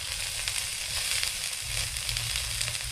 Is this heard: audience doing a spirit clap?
no